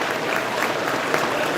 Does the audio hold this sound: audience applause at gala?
yes